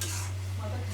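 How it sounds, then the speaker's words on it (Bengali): Fish and vegetable curry being fried and stirred with cumin and coriander powder in a pan, a continuous close sizzle under a steady low hum. "আর মাছ আর তরকারি একসঙ্গে কষিয়ে নেব"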